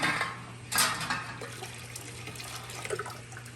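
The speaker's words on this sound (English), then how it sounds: "Go ahead and dump the water out" Water poured out of a glass canning jar during jam making, a short splashing burst followed by lighter trickles and drips into a sink, close and fairly quiet.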